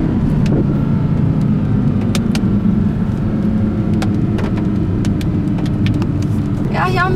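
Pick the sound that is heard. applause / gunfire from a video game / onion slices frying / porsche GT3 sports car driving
porsche GT3 sports car driving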